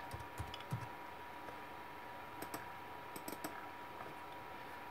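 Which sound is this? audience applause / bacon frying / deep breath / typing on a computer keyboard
typing on a computer keyboard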